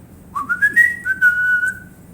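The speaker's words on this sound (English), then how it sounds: "The speaking tube whistled." A speaking tube gives a single sustained whistle, clear and alone, rising briefly before holding a steady pitch and then fading out.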